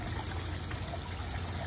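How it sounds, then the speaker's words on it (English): Water running steadily through a siphon in a siphonic toilet, a continuous close trickling, rushing flow with no voices. "The water flowing down the long leg has a lot of weight, and it creates a vacuum and pulls the water out."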